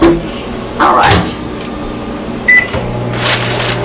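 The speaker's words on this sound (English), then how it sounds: "we're going to go put it in the microwave to make it hot, because it's instant broth." Microwave oven heating a cup of instant broth in a home kitchen: a steady low running hum with a bright tone and a door clunk, plus a short beep partway through and a few clicks near the end.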